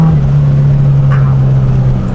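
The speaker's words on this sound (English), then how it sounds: "This exhaust, it's a little louder than I was thinking" Scion FR-S fitted with a DC Sports catback exhaust, giving a loud, steady, deep droning tone that holds evenly throughout with no talking.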